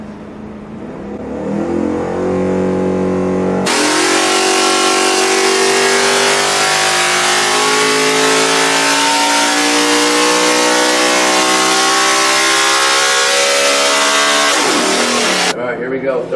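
Engine on a dyno at 32 degrees timing with VP Q16 fuel and a big carburetor revs up hard, holding a loud sustained rising roar before cutting off, with talk barely audible.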